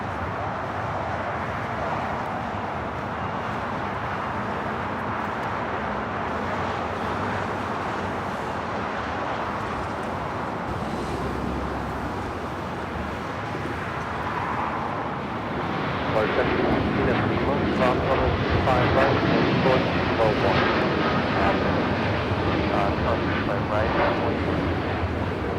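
An Air Tahiti Nui Boeing 787-9 Dreamliner takes off on runway 25 right at Los Angeles International Airport, a distant rumble swelling into a louder, rougher engine roar midway, with voices talking over it.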